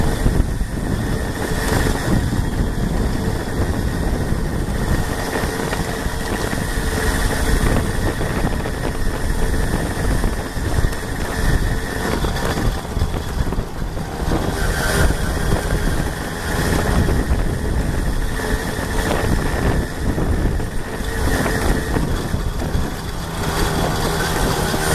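Riga 13 moped with a crankshaft fault and new bearings, its small engine running loudly and continuously with a rough, rattling drone close by.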